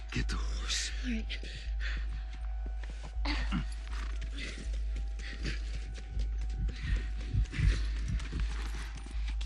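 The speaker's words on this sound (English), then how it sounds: "Just get the horse." Horse hooves clip-clop in The Last of Us video game, a rhythmic run of close hoof knocks over a steady low hum, with characters talking quietly at times.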